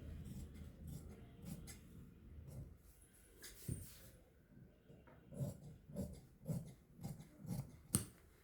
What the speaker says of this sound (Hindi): अब यहाँ से ही मैं गला काट रही हूँ।